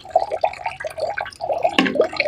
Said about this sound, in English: You put inside water.